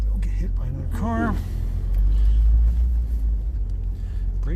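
A Fiat X1/9 pulling away for a drive around the block, a deep, loud engine rumble swelling as it sets off, heard from inside the car with someone talking over it.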